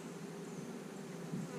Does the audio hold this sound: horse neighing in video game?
no